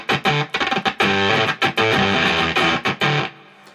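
An electric guitar run through a synth-like effect, playing short choppy bursts of buzzy, distorted notes with abrupt stops and a brief silence at the end.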